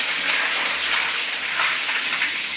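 Water gushes out of a just-repaired toilet tank as it drains, a loud, steady rushing flow that fills the whole moment without any talk.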